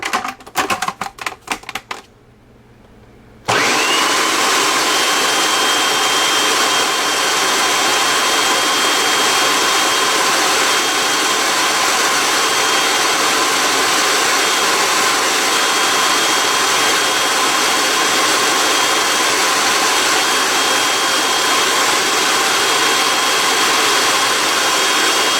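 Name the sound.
food processor pureeing poulet au pistou mixture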